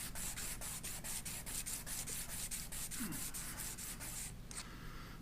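Sandpaper of 400 grit rubbed back and forth over a 3D printed model surface, a run of regular close scratchy strokes at a steady rhythm, fairly quiet with no talk.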